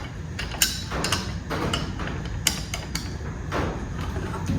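A wrench works a bolt on a homemade log arch trailer, giving scattered metallic clicks and clanks over a steady outdoor rumble, fairly close.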